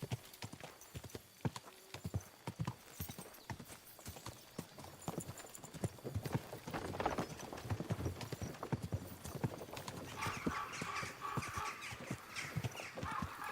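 Horse hooves clip-clop in a steady rhythm in the video game Kingdom Come: Deliverance 2, soft and a little distant, with a brief whinny and some rustling noise partway through.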